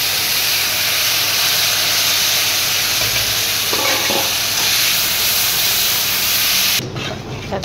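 Panch phoron spices sizzle loudly in hot oil, a dense close-up hiss and crackle that holds steady and then drops away suddenly near the end.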